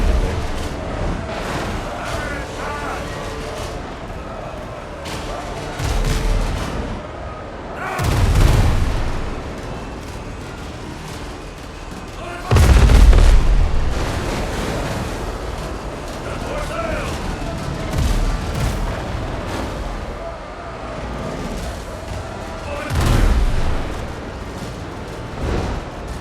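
Ship cannons firing during naval combat in the video game Windrose, a run of heavy booming shots with several louder blasts standing out, mixed with game effects while a player talks over the action.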